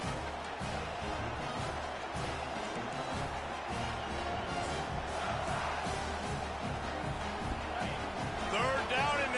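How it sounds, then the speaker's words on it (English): A packed stadium crowd roars at a college football game in College Football 25, Georgia against South Carolina, a dense continuous wall of cheering that swells slightly toward the end, with a commentator talking over it. "Third down, and this crowd is tearing the lid off this place."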